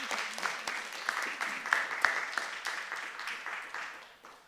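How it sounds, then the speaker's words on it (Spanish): Applause from an audience at an arts-education talk, a close, lively mix of many hands with a few sharp individual claps, tapering off toward the end. "Sí, el aplauso."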